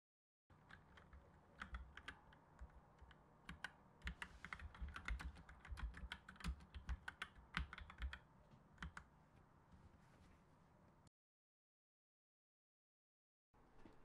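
Steady, close clicking of computer-keyboard keys being typed in irregular bursts while writing code, running for about ten seconds alone before falling silent.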